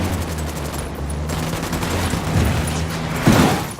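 Gunfire in the Ghost Recon Wildlands video game comes as sustained automatic bursts, loud and close, with a heavier thump near the end over rumbling background noise.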